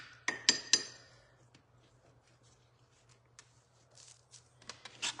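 A paintbrush is rinsed in a water glass, giving a few sharp glassy clinks at the start followed by faint swishing and light taps, quiet and close.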